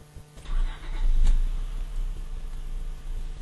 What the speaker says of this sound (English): So the next step I'm going to do is start the vehicle.